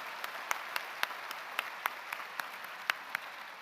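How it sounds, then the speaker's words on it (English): At an awards ceremony, a thin, scattered round of applause for the table sponsors comes from a few distinct hand claps spaced irregularly over a quiet room. "Let's give them a big round of applause for making this event possible."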